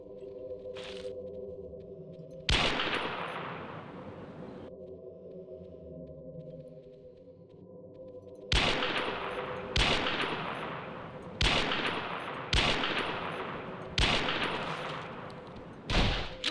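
Shotgun fire in the dinosaur hunting game Carnivores Triassic: sharp, loud blasts, one early and then five more in a fairly regular sequence, each with a decaying tail, over a low ambient hum and without speech.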